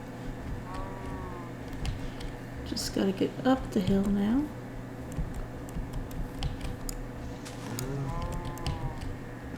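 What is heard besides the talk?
cows mooing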